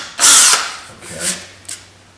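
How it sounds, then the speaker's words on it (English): A power drill fitted with a 3/32 inch bit whirs in a short loud burst, then two briefer, fainter pulses follow, close by in a woodworking shop. "This is a 3/32 inch drill bit,"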